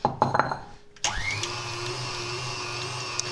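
Meat grinder mincing coarse ground meat a second time: a few handling knocks, then the motor starts abruptly and runs as a loud steady whirring hum, close by.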